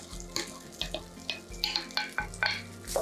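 Day-old rice dropped into a hot pan with garlic for Filipino garlic fried rice, giving scattered scraping and stirring clatters over a soft sizzle, several distinct hits in a few seconds, no voices.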